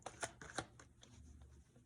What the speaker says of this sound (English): sometimes it takes a couple of different shuffles to get the right card to come out